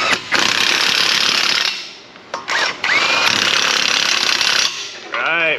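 A power tool, likely an impact wrench, tightens nuts on the front suspension knuckle of a Ford F250/F350 6.7 truck, firing in loud, close, sustained rattling bursts separated by brief pauses.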